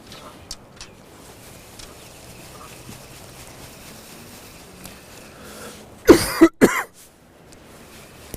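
A man with a lingering cold coughs loudly at a fishing spot after a quiet stretch, two or three harsh coughs bunched close together near the end.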